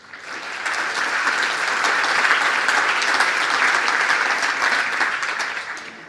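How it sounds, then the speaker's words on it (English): An audience at a talk on unfiltered label design claps for a team, a dense burst of applause that swells in, holds steady for several seconds and fades out. "I think they deserve a very big round of applause."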